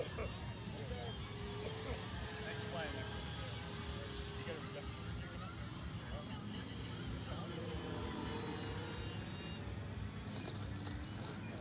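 A TunCub RC model airplane, a Tundra and Cub hybrid, comes in to land, its electric motor whining steadily and fairly close over outdoor wind noise.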